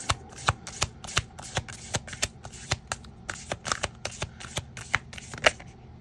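A deck of tarot cards being shuffled in repeated crisp riffles and taps, steady rhythmic bursts close to the microphone, with no talking.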